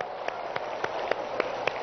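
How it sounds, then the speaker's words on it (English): Scattered hand claps from a seated audience at a persuasive-communication training session, a few distinct sharp claps spaced about evenly over a quiet hum, fairly faint and without talk. "Help me clap."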